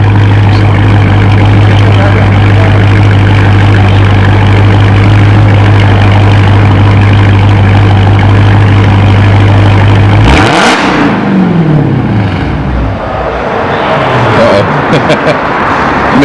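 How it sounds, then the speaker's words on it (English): A Dodge Hellcat with a new aftermarket exhaust idles with a loud, deep, steady rumble up close, then the engine revs up and falls back as the sound changes and thins out. "About to get some revs in to see what it sounds like."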